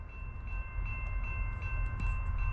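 A CSX M403 freight train rolls past on track two of the Conrail Lehigh Line, a loud steady rumble of wagons with rhythmic wheel clicks, heard close and without talk.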